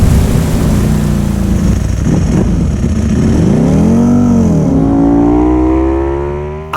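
A Ducati Streetfighter V4 SP engine roars up close on a race track, revving and shifting through rising and falling pitches as it accelerates, loud and continuous.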